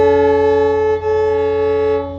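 Two bowed violin strings sounding together slightly out of tune, a steady sustained drone with a slow wobbling beat between the pitches, loud and continuous without any voices.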